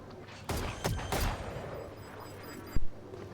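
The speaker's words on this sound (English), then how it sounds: "But the nade is gonna connect, and ooh, the Astra gets the kill on the Astra" An explosive grenade blast in the shooter game Valorant, with several loud bursts and an echoing boom, then a final sharp crack near the end.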